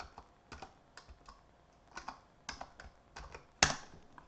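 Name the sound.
typing a password on a computer keyboard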